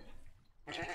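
A grey sheep bleats in the Minetest game MineClone5, one short nasal call that rises up after a quieter stretch of background sound.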